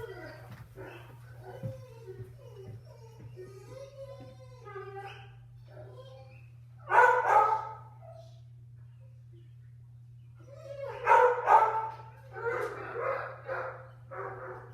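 Pet dogs indoors bark in two loud clusters of rapid yaps and woofs, set off by other dogs passing outside. Quieter stretches fall between the bursts, a person speaks softly at times, and a steady low hum runs underneath.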